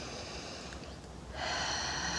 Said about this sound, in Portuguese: faça uma respiração profunda